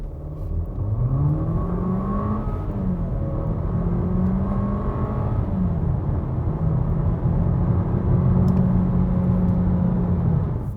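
Skoda Kamiq small SUV accelerating hard from a standstill to 100 km/h, a steady loud engine drone rising in pitch through several gear changes, heard from inside the cabin with constant road rumble and no talk.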